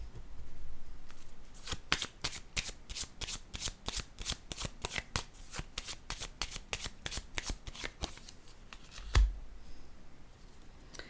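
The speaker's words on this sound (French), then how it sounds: "Je vais déposer une autre carte." Playing cards during a card reading make a rapid run of crisp, evenly spaced snaps and flicks, close and fairly quiet, ending with a single heavier thump.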